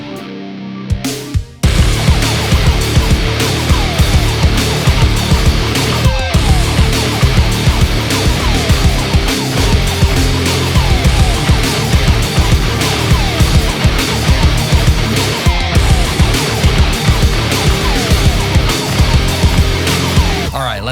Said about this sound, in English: how you can make nu metal tracks that sound like this